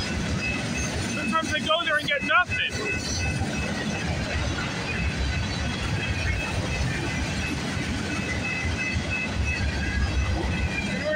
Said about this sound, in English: I've already got two CPKC trains